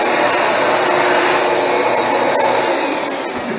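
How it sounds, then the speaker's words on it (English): Loud, steady whine of a Rug Doctor carpet cleaner running with an empty water tank, with a harsh airy roar that slightly fades toward the end. "That's the sound of an empty rug doctor."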